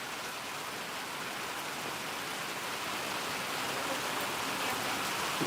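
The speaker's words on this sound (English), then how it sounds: "we're getting a little bit of rain here" Rain from Hurricane Delta's rain bands falling in a backyard in the Montgomery metro area: an even, unbroken wash of light-to-moderate rainfall, close and steady, with no one speaking.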